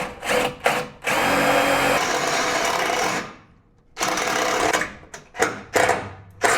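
A power drill whines in bursts, a short trigger pull, then two long drilling runs through the metal subframe of a Toyota Tundra pickup separated by a pause, ending with brief stop-start revs.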